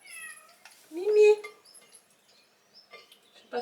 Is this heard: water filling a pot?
no